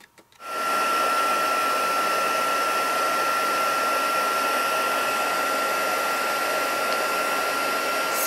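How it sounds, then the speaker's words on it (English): Heat embossing tool switching on and blowing steadily to melt embossing powder, a loud continuous fan whir with a high whine that starts after a brief pause and runs unbroken to the end, up close with no talking. "Bring in my embossing powder and just emboss."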